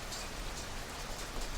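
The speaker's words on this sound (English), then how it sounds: "The rain beats down on a corner building, as it does on all buildings." Rain pouring onto a city street, a dense, even hiss of drops hitting hard surfaces, steady and moderately quiet with no breaks or voices.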